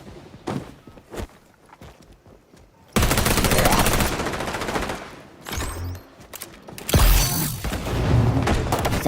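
Gunfire and a Semtex grenade explosion in the shooter game XDefiant: quiet footsteps and faint shots, then sustained loud automatic fire with heavy blasts and rumbling bursts that come in waves.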